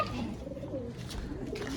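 A pigeon coos on a rooftop, a soft low repeated cooing close by against a faint outdoor background.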